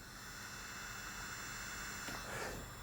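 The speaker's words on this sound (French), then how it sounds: "C'est le bruit de l'Osmo quand il ne tourne pas" Idle DJI Osmo gimbal with the camera not recording: a faint, steady electronic hiss and high whine, constant and close, with a slight swell near the end.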